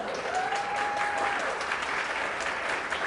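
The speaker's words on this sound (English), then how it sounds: "Oh, you can applaud, that's perfectly acceptable." An audience applauds a magic trick with bottles and a glass changing places: continuous, even clapping from a crowd, sustained at a steady level, with a faint brief tone briefly audible early on.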